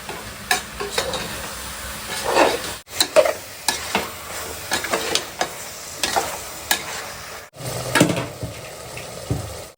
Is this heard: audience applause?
no